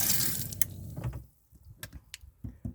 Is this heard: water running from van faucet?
yes